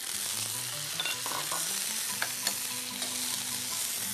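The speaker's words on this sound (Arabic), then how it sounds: "فوق الثوم رح ضيف أنا قطع صدور الدجاج" Cubed chicken breast, already oven-cooked, goes into a pan of frying garlic, a bright steady sizzle with stirring scrapes and a few clinks, close and loud with no voices.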